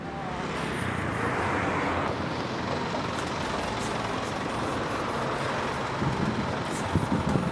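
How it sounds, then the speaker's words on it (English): A public bus on a road in Bali pulls up to a stop, its steady engine rumble and road noise filling the scene, with a louder brake hiss near the end. "So here comes the bus, let's flag it down."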